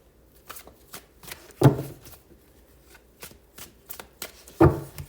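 Tarot cards shuffled by hand indoors, a soft riffling patter with two sharper, louder riffle bursts, close and quiet, no talking.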